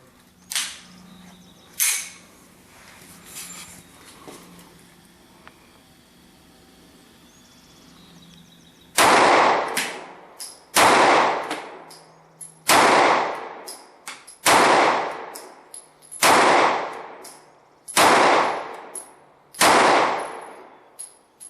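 Kahr CW9 pistol firing cheap ammunition at an outdoor range: eight loud, sharp shots spaced about one and a half seconds apart, each ringing out with a short echo, after quieter handling clicks and faint background noise.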